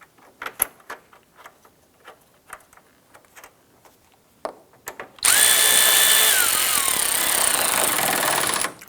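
A power tool drives a bolt into the radiator brace bracket of a 2005–2007 Ford Five Hundred, starting after a few quiet clicks and handling noises, then a loud, close, steady whirring drone that runs for several seconds.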